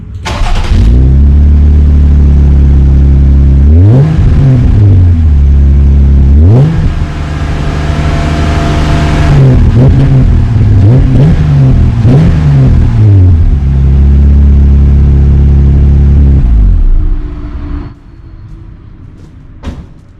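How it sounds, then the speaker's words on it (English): A Jeep 3.6 V6 fitted with a Magnaflow exhaust starts up, then idles and revs repeatedly in loud, close bursts before shutting off into quiet near the end. "We'll start it up. We'll rev it up to 3 RPMs."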